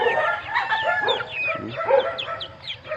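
Hybrid chickens cluck and squawk close by in a yard, a busy overlapping chorus of short calls with a rooster crowing among them.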